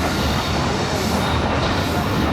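A passenger train rolls through Lahore Cantt railway station without stopping, a dense, steady rumble of wheels and carriages filling the whole stretch at close range, with faint squeal and rail clatter and no talking.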